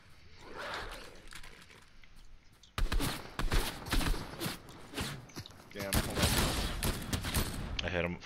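Video game gunshots, a flurry of sharp loud shots bursting in suddenly after a quieter stretch, with scattered further bursts and some rhythmic clatter, while a voice talks in the background.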